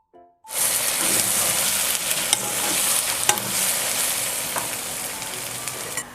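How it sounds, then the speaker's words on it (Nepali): Chicken frying in a pan as ginger and garlic paste is stirred in for a homemade chicken pickle: a loud, steady sizzle with scraping stir strokes, starting abruptly after a brief quiet moment. "अब यसमा हामी हाल्छौं लामो गरी काटेको अदुवा, लसुनको पेस्ट र यसलाई मजाले मिक्स गर्छौं।"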